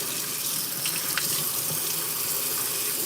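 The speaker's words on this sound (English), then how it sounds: "Fill it with water, let it drain out." Water runs steadily into a potted rubber plant, a continuous broadband splashing and trickling like a tap filling a sink, close and constant throughout with no talking.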